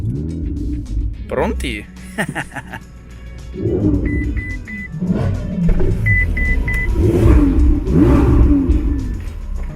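A Ferrari 488 GTB on Pilot Sport 4S tyres revs and accelerates on a race track, a loud rising and falling engine note with shifts and brief electronic beeps, while someone talks over it.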